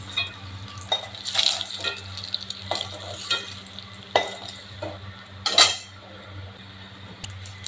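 Fish roe frying in a pan until browned, with a soft sizzle under repeated scraping and clinking of a utensil against the pan, several sharper knocks standing out, no voices.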